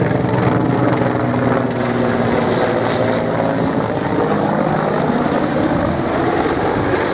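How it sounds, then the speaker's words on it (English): A Mil Mi-24V Hind attack helicopter with stub wings flies at the Biggin Hill Airshow, a loud, steady engine and rotor roar that holds without a break. "it's a very capable helicopter to have operating as part of the NATO alliance even now"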